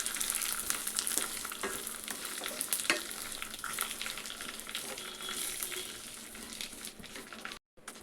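Ground rice and lentils roasting in a kadai for rice upma, with a steady dry sizzle and frequent scraping stir strokes throughout, near and fairly loud, cutting out briefly near the end.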